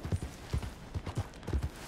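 Horse hooves in the Red Dead Redemption 2 video game, a quick, close run of muffled clip-clops in an uneven trotting rhythm, heard alone with no talk.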